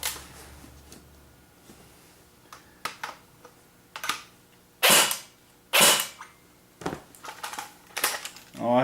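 An airsoft AEG being fired on semi-auto in single shots, spaced irregularly and fairly close, each a sharp snappy crack with a small mechanical clack, the last few coming quicker.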